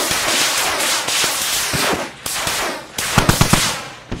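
Artillery fires in the video game Squad, with loud rolling blasts and crackling booms in rapid succession, followed by a quick cluster of sharp reports near the end.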